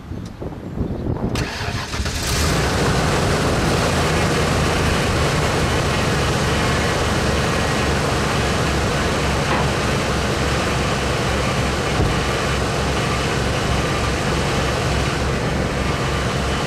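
A 1996 Ford Club Wagon Super E350 XLT van with a 5.8 engine cranks and fires after a short quiet moment, then settles into a loud, steady, close running drone that continues without letup.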